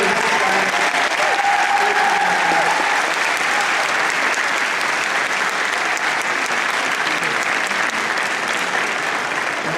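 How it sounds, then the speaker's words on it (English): A crowd at an art museum conversation event claps loudly and continuously, a dense, sustained wash of applause with a few voices faintly audible under it at the start. "another round of applause"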